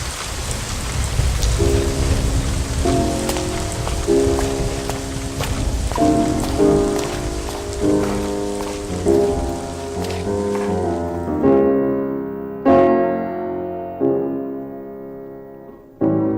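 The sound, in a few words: heavy rain falling, dramatized storm scene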